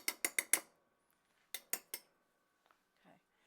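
A metal utensil striking a pot of homemade mac and cheese: a quick run of four sharp clinks, a pause, three more, then a few faint scrapes, close and clear in a quiet kitchen.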